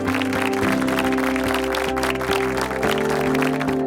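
A studio audience at a singing reality show gives a loud, sustained round of applause for Pradeep sir, steady dense clapping over music throughout.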